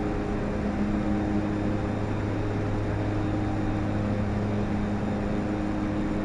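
DHC-6-300 Twin Otter engines in Flight Simulator X hold a steady, even drone with a constant low hum and faint higher whine, moderately quiet and alone.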